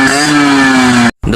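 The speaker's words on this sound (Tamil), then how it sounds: "இந்த பைக்கோட எக்ஸாஸ்ட் சவுண்டு சும்மா தெறிக்க விட்டுருக்கோம்" A Yamaha RX-100 motorcycle exhaust drones loudly and steadily up close, then cuts off abruptly for a moment before the engine sound returns.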